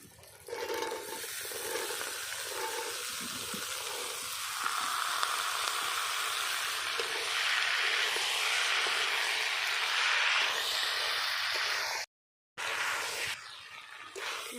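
Fried potatoes and boiled peas sautéing in an oily pan for ghugni, a steady loud sizzle with stirring scrapes throughout and a brief gap near the end.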